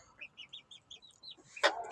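Roosters in a coop give a run of short, rhythmic clucks and chirps, ending with one loud, sharp squawk near the close.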